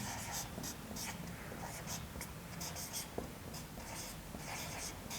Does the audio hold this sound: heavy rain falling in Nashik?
no